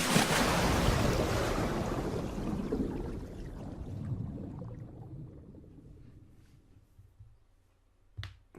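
A splash into water in the Beyond: Two Souls video game sets off loud rushing waves and surf that slowly fade over several seconds, ending with a brief sharp thud, with no speech.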